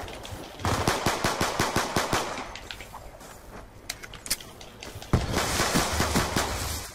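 Gunfire in a video game: rapid bursts of automatic weapon fire and scattered single shots, loud and close, with intermittent pauses between volleys.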